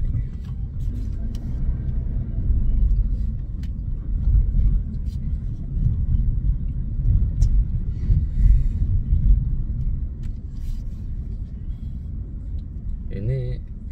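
Heavy car traffic creeps in a jammed queue entering a toll road, a steady low engine rumble heard from inside a vehicle, with someone talking over it throughout.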